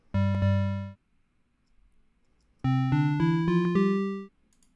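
Sonic Pi's sub-pulse synth plays a short detuned low chord with two quick attacks, then a pause, then a rising sequence of sustained buzzy, harmonically rich tones stepping upward, clean and alone.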